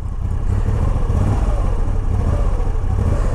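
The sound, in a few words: Moto Guzzi V85 motorcycle engine idling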